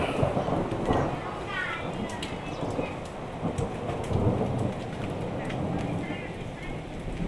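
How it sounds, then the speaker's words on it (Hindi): A heavy record rainstorm in Cyprus, with thunder rumbling over a dense, continuous roar of rain pouring onto surfaces, loud and unbroken throughout. "वो बिजली आप आवाज़ इसकी सुन सकते हैं।"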